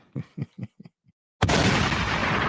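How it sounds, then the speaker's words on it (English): A single loud gunshot sound effect bursts in abruptly after a few short muffled thumps, then rings out as a sustained noisy blast to the end. "why you give him a gunshot for that?"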